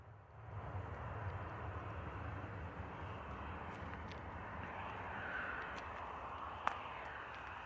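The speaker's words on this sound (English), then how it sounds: "Beautiful arrival from the EasyJet A320 coming in from Glasgow." An EasyJet Airbus A320 arriving from Glasgow at Bristol Airport in the evening rolls down runway 09, its engines making a steady, moderately distant roar that holds throughout, with one brief sharp click near the end.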